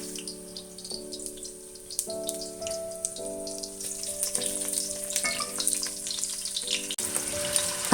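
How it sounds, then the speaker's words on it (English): Onions and chopped garlic fry in hot oil in a pot, a steady sizzle alongside a sustained musical tone in the background, with occasional stirring clinks and a louder crackle near the end. "After the oil is hot, I'm gonna add some onions, some chopped garlic, and let it fry a little bit."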